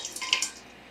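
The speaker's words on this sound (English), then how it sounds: "first we'll just pour some in there. And again, it's going through the strainer." Homemade blackberry juice poured through a strainer, a short burst of splashing trickles and drips that fades quickly, close and fairly quiet.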